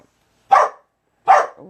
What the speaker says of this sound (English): What are you barking at him?